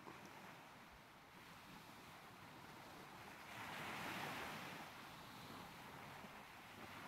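A yacht in an Unreal Engine 4.8 game pushes out to sea, with steady ocean surf and wind noise rolling continuously and a louder swell of wash midway through, no voices.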